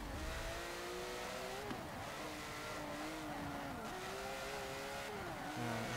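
A 1971 racing car in Forza Motorsport 7, its engine revving hard and climbing through gears with short drops at each shift, loud and continuous, with a hint of tire squeal and no talking.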